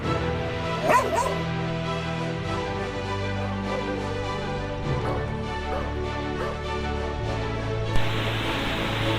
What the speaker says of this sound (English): Tiger attacks a guard dog in a village.